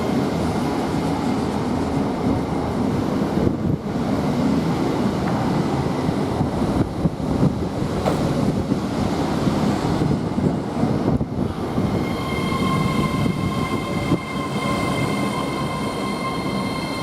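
A Class 807 electric train, unit 807.005, moves through Coventry railway station with a steady loud rumble of wheels and traction, rising toward a tonal whine and squeal near the end.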